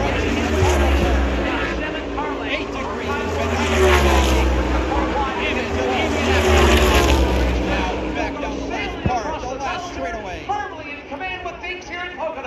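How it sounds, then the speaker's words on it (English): NASCAR stock cars at Pocono Raceway, heard from the grandstand. Engine roar rises and falls steadily as cars pass, blended with crowd noise and a voice talking over it. "Here comes Denny Hamlin in the FedEx."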